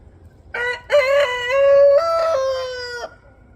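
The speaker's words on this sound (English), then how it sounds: "Here's the male rooster." A rooster crows once, a loud, close cock-a-doodle-doo with a rising start and long held final note, over quiet background.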